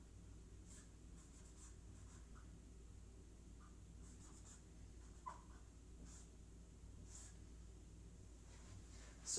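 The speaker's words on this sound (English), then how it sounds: "give me just one moment to write it" Pen scratching on paper during a mass transport lecture, with steady close strokes and occasional taps over a low hum. The writing runs throughout at a soft level with no talk.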